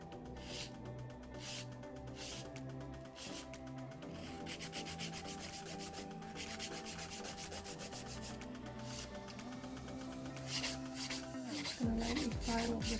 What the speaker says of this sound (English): I'm going to lightly file over the top so I can check the width of this.